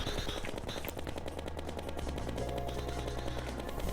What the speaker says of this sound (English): So it starts off with this flying above you and shooting brimstone blasts